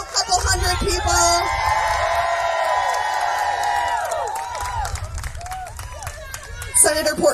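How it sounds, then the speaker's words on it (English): A rally crowd of a couple hundred people at a gun legislation rally, out in the rain, cheers and whoops with sustained rising yells, loud and close, with claps and shouts scattered through it. "a crowd of a couple hundred people braving the rain who want you to do the same"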